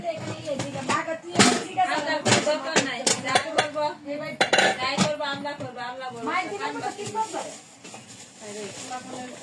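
Pots and utensils clanking while khichuri is being cooked at home, with sharp metallic knocks and clinks scattered throughout, mixed under ongoing conversation from nearby voices.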